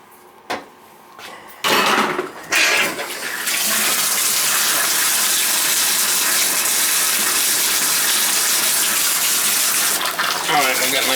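Hot water pours steadily from a repaired Symmons tub shower valve after a few knocks and clunks, a loud continuous hissing gush filling the bathroom close to the microphone.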